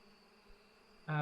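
Bees in the APICO video game give a soft steady buzzing hum, then a loud bright droning burst cuts in at the end.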